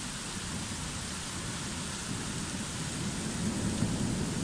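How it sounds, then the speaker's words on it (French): Steady heavy rain falls during a storm that has brought hail and a strong gust of wind, making a dense, even hiss that stays at constant loudness with no voices. "Maintenant, il pleut."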